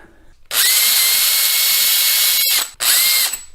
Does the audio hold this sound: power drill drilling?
yes